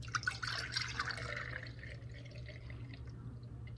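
Milk pours from a pour-top container into a measuring vessel, about three cups in all, as a soft, steady trickle with light splashy spatter at the start, close and quiet.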